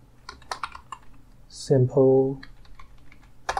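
Computer keyboard typing of Python code: scattered crisp key clicks at close range, interrupted by a short burst of speech, with a few more taps at the end.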